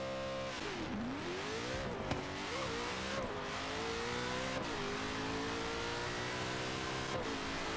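A 2,300 HP Mustang Cobra drag car in Forza Horizon 3 accelerates hard, its engine tone climbing through repeated gear shifts in a loud, continuous, close roar.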